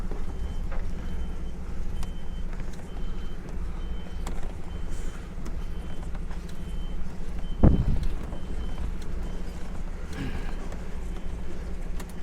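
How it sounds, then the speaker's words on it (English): Intermittent reversing beeps from a small forklift at a Scottish site, repeated at a steady pace over a low idling engine hum, with one sharp knock midway and distant background noise. "Ah, forklift's coming."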